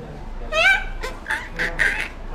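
A man, a forest guard in Tadoba jungle, imitates a parrot's voice with a few short, shrill, squawking calls, close and clear over a quiet background.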